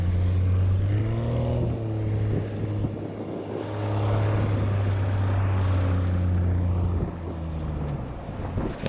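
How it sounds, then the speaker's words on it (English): A Cessna 170B experimental taildragger with shock-absorbing landing gear touches down short, its propeller engine droning loud and steady as it rolls out, with no talk over it. "You can see how short this airplane can land"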